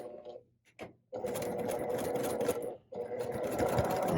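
A sewing machine back stitches quilt pieces for a New York Beauty block in two bursts of rapid, close, rattling stitching, the first after a few short taps, with a brief pause between runs.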